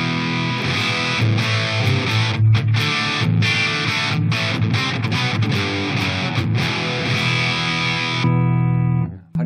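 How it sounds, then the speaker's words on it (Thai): An electric guitar plays continuously through a BOSS DS-1 distortion pedal set with its controls near the middle, giving a dense, saturated distorted tone with a few brief breaks before the sustained chord cuts off near the end. "อันนี้เริ่มจาก DS1 ปกตินะครับ"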